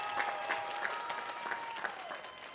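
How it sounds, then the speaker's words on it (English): Applause from the audience at a college commencement ceremony for the class of 2022, a soft, distant, continuous patter of many hands with a faint tone sounding through it. "And that deserves a round of applause"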